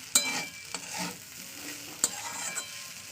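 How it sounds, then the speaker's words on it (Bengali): A vegetable mixture is stirred and fried in a pan, giving a steady sizzle broken by a few sharp scrapes of the spatula, close up with no talking. "ভালো করে আবার এটার সঙ্গে ভালো করে মিশিয়ে ভাজতে হবে"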